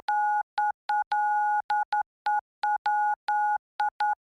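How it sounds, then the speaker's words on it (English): Morse code beeps tapped out from a console button in a comedy audio game: a steady two-tone electronic beep sounding in irregular short and long bursts separated by silence, clean and alone. "Use the button on your console to spell it out in Morse code."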